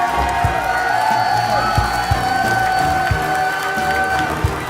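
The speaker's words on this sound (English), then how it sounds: "can I get a round of applause for your champion?" A live crowd at a Clash Royale tournament in Helsinki applauds and cheers for the champion, a steady wash of clapping with scattered whoops and sharp claps, fairly close and continuous for several seconds.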